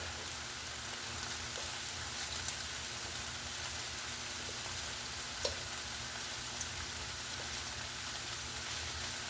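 Thin slices of steak searing in a pan for beef and broccoli, a steady dense sizzle like light rain running evenly throughout with a few tiny pops, no talking.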